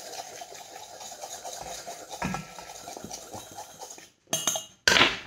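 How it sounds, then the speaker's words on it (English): Cake batter for an orange almond cake stirred in a bowl, a steady scraping and clinking of utensil against the bowl that continues, then breaks off into a brief silence before two sharper, louder knocks near the end. "Now I'm going to give this all a good mix."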